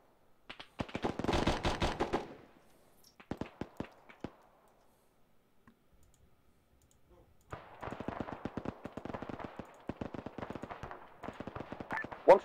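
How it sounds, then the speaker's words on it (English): Rapid automatic gunfire in a military video game, heavy fire from a vehicle, coming in separate bursts: one long rattling burst, a few scattered shots, a quiet gap, then a sustained string of shots to the end. "we're taking heavy fire from a vehicle"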